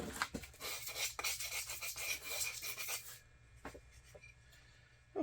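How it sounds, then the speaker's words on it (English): Sandpaper rasps back and forth over the wooden paddle of a two-buck deer grunt call in quick, scratchy strokes, close up and steady for about three seconds before giving way to a few softer rubs and quiet handling. "Need my sandpaper again."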